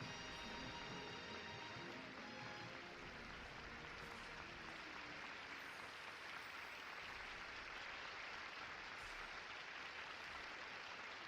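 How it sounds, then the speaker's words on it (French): Steady, hissing audience applause fills the whole stretch, a continuous dense wash from a large crowd heard at a distance, faint and unbroken, with a faint musical tone beneath it at the start. "Des applaudissements mérités quand on connaît désormais son parcours."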